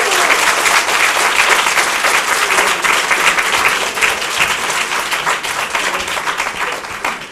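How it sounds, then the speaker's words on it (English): An audience applauds Dr. Cooper with sustained, dense clapping from a full room that stays loud and steady throughout. "Let's give Dr. Cooper another hand clap"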